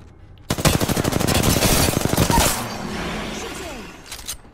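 Rapid automatic gunfire in the video game Apex Legends, a loud burst of evenly spaced shots lasting about two seconds, then fading echoes and a few scattered later shots.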